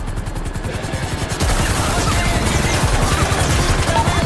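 Rapid gunfire in a video-game firefight, lighter shots at first, then a dense, continuous loud barrage of overlapping bursts from about a second and a half on.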